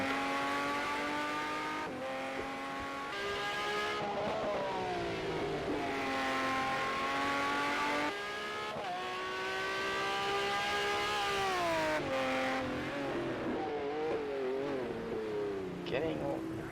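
A BMW LMP900 prototype race car in Project Cars 2 at Laguna Seca revs hard through gear changes, its engine pitch rising and falling repeatedly, loud and close throughout.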